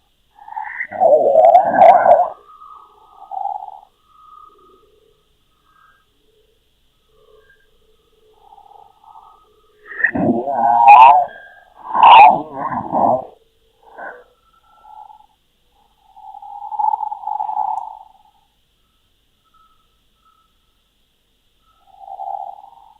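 Garbled, backward-sounding voice fragments from a reversed hidden message in the game Five Nights at Freddy's 2, in short bursts separated by long silences, murmuring and unintelligible, faint and sparse.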